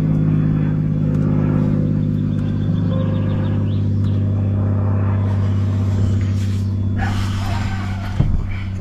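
A car engine managed by a MaxxECU runs close by with a loud, steady low rumble and strong harmonic drone, its pitch shifting slightly partway through, with a brief sharp knock near the end.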